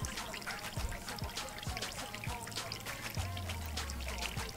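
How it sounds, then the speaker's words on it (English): Motor oil trickles and drips steadily into collected oil during an oil change, a soft continuous pouring with faint splatter. "There's more oil, that's why it's making a dripping sound."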